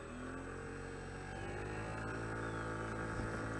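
A low, continuous engine drone with a faint high whine underneath, steady and fairly quiet, like a small motor running while moving.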